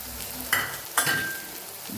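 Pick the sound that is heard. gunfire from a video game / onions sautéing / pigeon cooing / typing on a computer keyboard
onions sautéing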